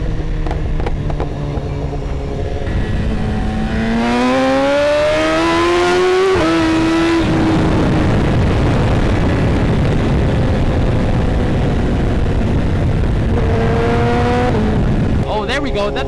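S1000RR motorcycle engine running steadily while riding after rain, with rising gear pulls and a continuous loud drone and wind rush throughout.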